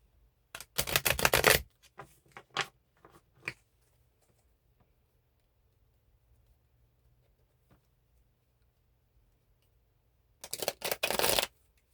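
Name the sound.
shuffling tarot cards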